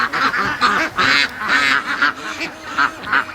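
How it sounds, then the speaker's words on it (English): Geese honk repeatedly in a loud, close flock at a backyard duck and waterfowl setup, overlapping nasal calls in quick irregular bursts with no talking. "look at the geese. They're so good looking."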